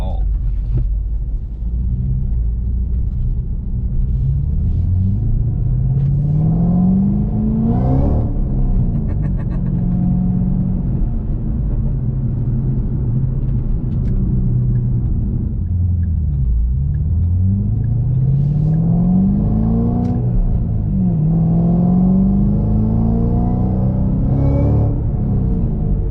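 A Ford Mustang GT500 engine with a rising, falling whine over a deep steady rumble, swelling and easing several times as the car accelerates and shifts, loud and close throughout.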